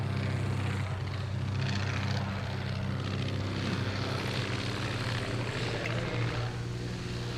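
A de Havilland Chipmunk propeller aircraft flies at an Australian air show, its steady engine drone and low prop hum holding loud and continuous throughout, broad rumble filling the background with no voices.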